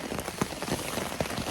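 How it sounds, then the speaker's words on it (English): Rain falls outdoors in the early morning around a trail campsite, a steady soft patter with a few sharper drops hitting a surface nearby, continuous and moderately loud with no voices. "It's kind of raining."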